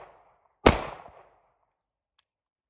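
A single close, loud gunshot from a Hi-Point C-9 pistol, with a sharp crack and a short decaying tail, then a tiny faint click about a second and a half later.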